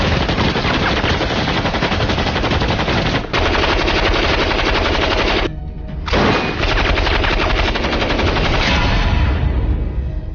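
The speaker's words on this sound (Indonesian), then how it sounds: "Meskipun ada salah satu tembakan yang meleset, Liu pun berhasil mengatasinya." Film battle scene of American and Chinese sniper teams fighting, loud sustained automatic gunfire with rapid bursts and booms, a brief lull midway before the shooting resumes.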